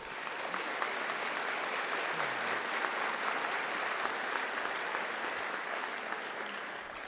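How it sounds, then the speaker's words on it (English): At a college commencement ceremony, a large audience keeps up a sustained, even round of applause for about seven seconds, dense and unbroken with no talking over it. "Please, round of applause."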